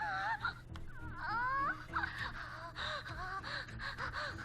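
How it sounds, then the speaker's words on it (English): Gasping, heavy breathing from a character in the horror video game Corpse Party, with sharp wavering breaths and strained vocal sounds over a dark, noisy game backdrop, fairly close and loud. "that heavy breathing, is that Shinosaki?"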